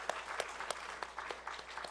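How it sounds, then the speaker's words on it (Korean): A church congregation claps for the choir, accompanist and conductor after a hymn: a short burst of dense, even applause from many hands in a reverberant hall. "우리 수고한 찬양대원들, 우리 반주자, 지휘자님 다 수고했다고 우리 박수 한번 격려하시죠."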